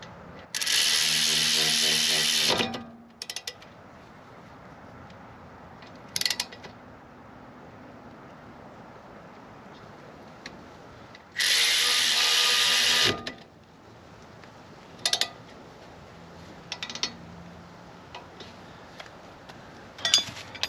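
Bolts on a Honda Accord brake caliper bracket tightened with a hand ratchet, two long bursts of rapid close clicking with a few short ratchet strokes between them in a quiet workshop.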